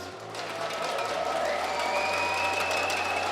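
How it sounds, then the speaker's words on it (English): An audience at a League of Legends esports grand final claps continuously, a dense wash of applause swelling slightly and holding steady, with a faint tone humming underneath. "Clap your hands."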